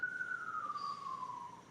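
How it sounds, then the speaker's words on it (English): A distant siren wails in a single long, slowly falling tone, faint against low background noise. "I hear sirens."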